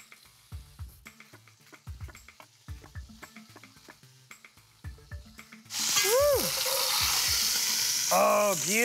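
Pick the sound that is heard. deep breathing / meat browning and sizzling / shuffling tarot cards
meat browning and sizzling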